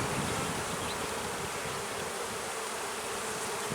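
Honey bees swarm and buzz loudly and continuously around an open, crowded hive during an inspection of brood frames, a dense close insect drone with no voices.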